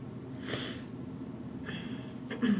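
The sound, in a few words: sniffling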